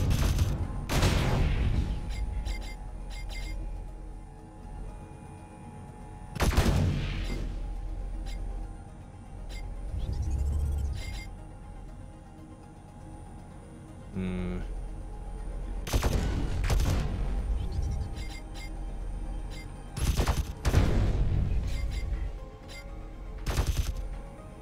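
Video game gunfire crackles in several loud volleys of rapid shots separated by quieter stretches of ambient noise, the bursts close and punchy.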